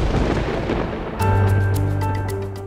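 A thunderstorm with strong wind: a broad, steady roar of wind and rain, then a loud, rumbling thunder surge with sustained tones, close and filling the scene.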